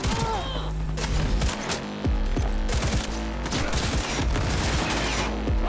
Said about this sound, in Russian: Что за стрельба?